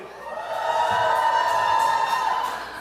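Groom's side guests at a Punjabi wedding reception cheering and shouting together, a loud sustained crowd roar that swells and fades over a few seconds.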